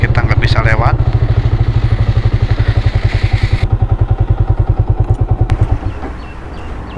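A motorcycle engine runs loud and close with a steady rapid pulsing throb while riding a rough path beside a railway line in Banjar, Indonesia, then eases off toward the end.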